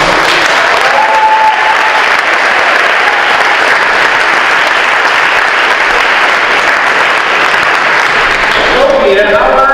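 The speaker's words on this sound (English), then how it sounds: "And another round of applause" Loud, sustained applause from a literary festival audience honoring the festival's founder, a dense unbroken roar of clapping lasting throughout, with faint voices rising underneath near the end.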